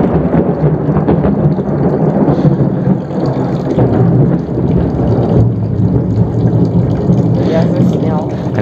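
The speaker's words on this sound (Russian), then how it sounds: "Люблю грозу в начале сентября." Thunder rolls in a long, heavy, continuous rumble during an early-autumn thunderstorm near a grape harvest, loud and close, with rain noise and some faint talking underneath.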